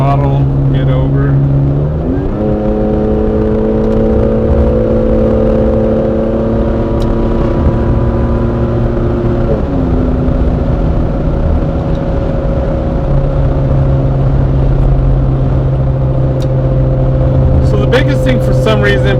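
A Toyota Tacoma V6 truck fitted with an aftermarket exhaust accelerates from inside the cab, its engine drone rising through gear changes around two and ten seconds, loud and continuous.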